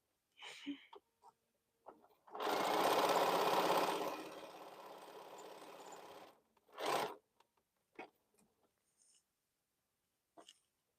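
A domestic sewing machine stitches quilt blocks in one loud, steady run lasting about four seconds, tapering slightly before stopping. Brief faint bumps and voice-like snippets come before and after in an otherwise quiet room.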